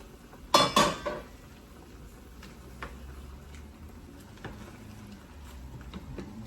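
A metal cooking pot of spicy Filipino beef caldereta is handled with two sharp, close clanks of the lid, followed by faint scattered clicks and taps in a quiet kitchen.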